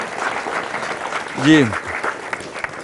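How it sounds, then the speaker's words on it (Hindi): A studio audience at a televised farmers' prize-giving breaks into steady, dense applause that fills the whole stretch, with a voice briefly speaking over it midway. "तालियां जी बहुत"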